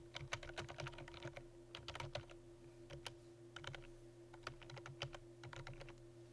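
Close, crisp computer keyboard typing comes in quick bursts of keystrokes separated by short pauses, with a faint steady hum underneath.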